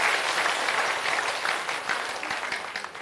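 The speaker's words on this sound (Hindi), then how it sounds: "एक बार जोरदार ताली बजाइए" A crowd at a Prashant Kishor public meeting in Bhelwa panchayat, Madhepura, applauds loudly and steadily, the clapping fading slightly toward the end.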